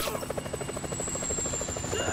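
A helicopter in Grand Theft Auto 5 hovers nearby, its rotor beating in a steady rapid thump under a thin high whine, constant and unbroken throughout.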